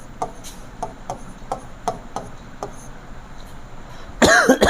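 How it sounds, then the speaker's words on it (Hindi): A burst of coughing near the end, after a stretch of quiet ticking taps; short, close, and fairly loud against the soft background. "थोड़ा खांसी परेशान किया हुआ है।"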